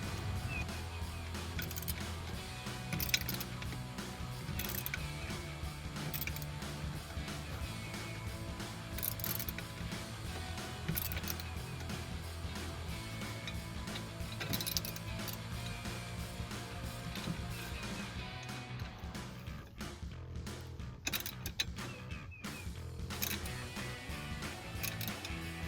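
A ratchet tightens an exhaust bracket on a 2005-2010 Mustang V6 with a C&L Sport axle-back exhaust, giving quiet, close mechanical clicking and scattered metallic ticks in short bursts over a low background.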